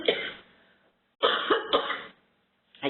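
A person coughs in a quiet room, with a burst of coughing, a short pause, then a double cough followed by a final brief one, close and fairly loud.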